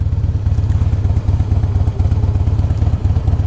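A 2005 Harley-Davidson Heritage Softail runs steadily while being ridden, its loud, close V-twin engine producing a deep, pulsing rumble with a rhythmic low throb and light mechanical clatter throughout.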